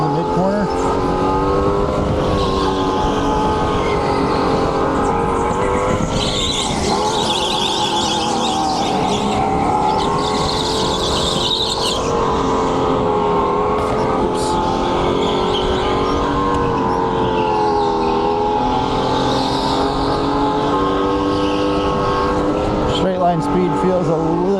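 A racing kart in a winter league heat is driven hard through a mid-corner with a hint of understeer. Its engine gives a loud, close, continuous high-pitched buzz that rises and dips through the turn.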